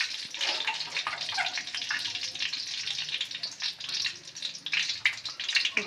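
Whole bata fish frying in hot oil in a kadai, a continuous bright sizzle with crackling spits and pops, close and fairly loud with no talk.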